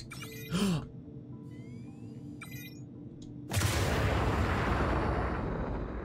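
Missiles launching from an Anvil ship in the space game Star Citizen: short electronic beeps and tones, then a sudden loud whooshing roar that sustains and slowly fades.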